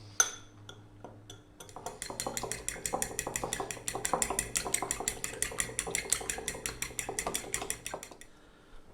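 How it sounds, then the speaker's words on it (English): Seasoned flour with salt, pepper and five spice is stirred in a bowl, making a steady run of close, light scraping and clinking strokes with no talking. "There goes the star anise powder or 5 spice. Give that a little mix."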